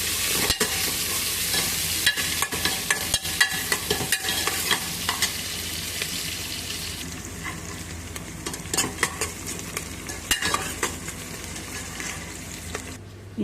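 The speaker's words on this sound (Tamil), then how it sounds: "நல்லா வணக்கி விட்டுக்கோங்க." Onions sauté in a pan for mutton biryani, with a loud continuous sizzle and frequent sharp scrapes of a stirring utensil; the hiss fades somewhat toward the end.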